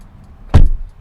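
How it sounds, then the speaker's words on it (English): The rear door of a 2020 Mercedes-AMG CLA35 sedan closes with a single solid, deep thud, close by and alone. "The door sounds nice and solid."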